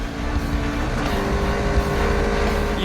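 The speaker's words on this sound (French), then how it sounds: "Vincent Beltoise, un jeune pilote talentueux, relève le défi au volant d'une Caterham en configuration course" A turbocharged Caterham R300 in race configuration driven hard, its engine roaring loud and close with a steady buzzing drone throughout.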